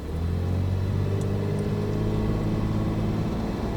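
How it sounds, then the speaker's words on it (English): Inside the cab of a Toyota 4Runner with its factory exhaust, a steady, fairly quiet low engine drone and road rumble carry on throughout. "here is a in-cab sound of the factory exhaust"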